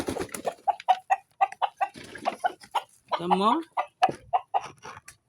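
Chickens clucking close by on a farm in short repeated bursts, mixed with people talking and a baby's voice.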